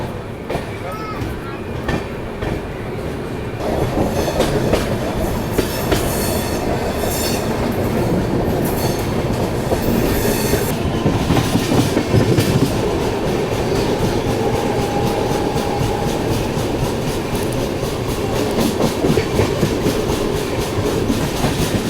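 The Sampark Kranti Express rumbles steadily along the rails departing Godhra Junction in Gujarat, a continuous roar and rhythmic clatter, loud and close, with a brief faint squeal partway through.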